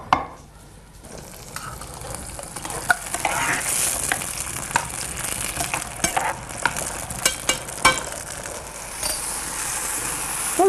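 Tomato sizzles and fries in a pan for a bean stew, with repeated scraping stirs and clinks of a utensil against the pan over a constant loud crackle.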